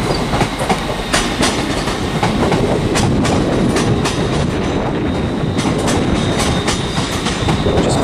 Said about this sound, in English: also departing here is 380 That's on a ScotRail service over to Ayr,